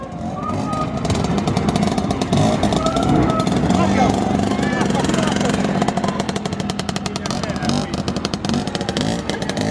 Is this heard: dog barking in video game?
no